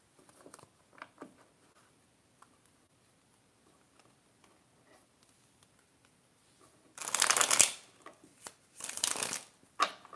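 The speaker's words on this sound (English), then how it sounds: "let's shuffle your cards" Two quick bursts of tarot cards being riffled and shuffled, close by, with small taps and handling noises in the quiet before.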